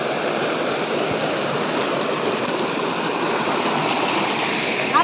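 A waterfall roars as a dense, steady rush of falling water, loud and close, with no pauses or other sounds standing out.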